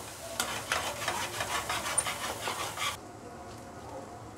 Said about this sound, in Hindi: अब इसको हम 2-3 मिनट इसी तरह भूंज लेंगे।